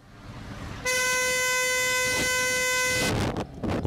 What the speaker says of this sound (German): sofern diese Presslufthupen am Fahrrad montiert sind